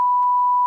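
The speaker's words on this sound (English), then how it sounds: "Why do you need to bleep this?" A steady high-pitched censor bleep over cursing runs unbroken for well under a second, loud and flat, cutting off abruptly at the end.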